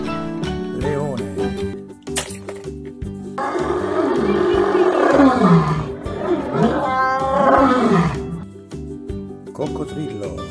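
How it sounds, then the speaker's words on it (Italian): A lion gives two long, loud roars in the middle, rising and falling over a bouncy children's tune, with brief chimes before and after. "Leone."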